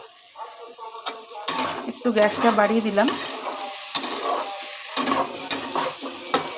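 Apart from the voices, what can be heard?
okra and potatoes frying in pan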